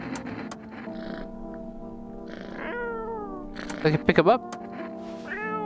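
A cat meows inside the video game No I'm Not A Human, with several short close calls bunched near the end. A player speaks over game music and ambient tones throughout.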